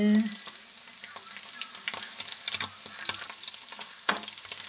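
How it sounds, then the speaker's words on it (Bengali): Potatoes and egg fry in a pan and are stirred by hand, giving a close, continuous crackling sizzle broken by scraping strokes and small clatters of the utensil. "ছোট ছোট হাত দিয়ে নাড়া দিচ্ছে যাতে ভালোভাবে ভাজা হয়"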